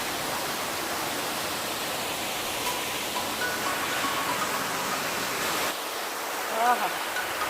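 Thusharagiri waterfall in Calicut gives off a steady, loud, broadband rushing roar that fills the whole stretch. Faint voices and a few brief sounds sit beneath the water noise.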